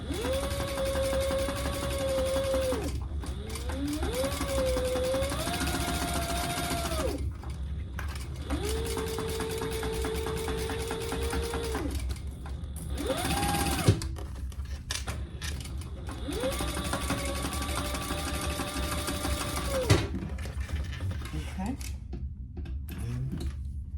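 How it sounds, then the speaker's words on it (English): A sewing machine runs a quarter-inch basting seam on a crossbody wallet in several long bursts of steady whirring with brief pauses between them. A person talks over the stitching. "And I'm just doing a 1/4 inch seam here. It's really a basting stitch."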